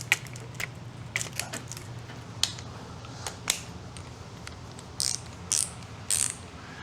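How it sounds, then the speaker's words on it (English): A 1/2-inch ratchet turning, a rapid run of clicking pawl ticks in uneven bursts, close and fairly quiet, followed by a few louder rasping pulls near the end, with no voices. "So it's a 1/2-inch ratchet."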